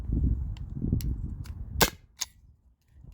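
A Byrna SD CO2 launcher fires a handful of crisp, snappy shots a fraction of a second apart over faint background rumble, the last few standing out clearly against near silence.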